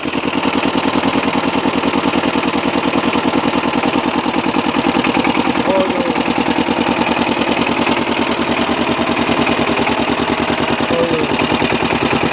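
A Kamco power tiller engine idles in a village with a fast, even mechanical chugging that stays loud and close throughout, a rapid steady thump with no pauses.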